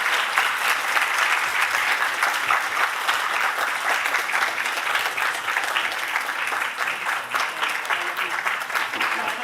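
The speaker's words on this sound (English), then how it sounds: "it's a big applause for these members." Enthusiastic applause fills a medical congress hall in Lublin as team members come up onto the stage, dense and steady clapping from a large audience that stays loud and unbroken throughout.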